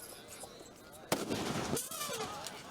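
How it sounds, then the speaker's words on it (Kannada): A firecracker goes off during a rehearsal for the Mysuru Dasara elephants: one sharp, loud blast, then a rumbling tail lasting under a second, over faint background voices. "ಈಗ ಸಿಡಿಮದ್ದು ತಾಲೀಮು ನಡೀತಾ ಇರುವಂತದ್ದನ್ನ"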